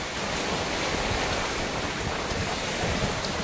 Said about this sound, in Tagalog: Sakto lakas pa ng hangin.